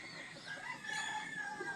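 Backyard fighting roosters (gamecocks) crow and cluck close by, one drawn-out crow over softer clucking across a short stretch with no talk.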